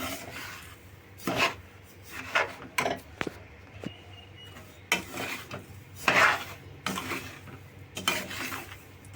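A spoon scrapes and rubs through semolina and sugar in a pan, with repeated gritty rasping strokes at an uneven rhythm, close by and with no voices.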